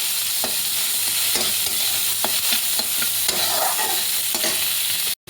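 Onions frying in a pan until brown, a steady broadband sizzle with repeated clicks and scrapes from stirring, close and continuous with no talking.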